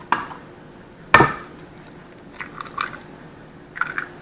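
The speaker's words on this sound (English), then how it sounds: "I'm going to break my 2 eggs that are actually still warm." Two warm eggs are cracked into a bowl of ground beef, one sharp crack followed by softer wet squishing and dripping sounds, close and sparse against a quiet kitchen background.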